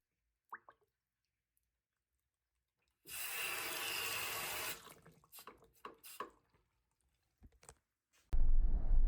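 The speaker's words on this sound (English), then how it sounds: "The sink also had good water pressure." A motel bathroom sink faucet with good water pressure gushes for under two seconds, then shuts off, leaving scattered drips and small clunks before a louder burst of running water at the end.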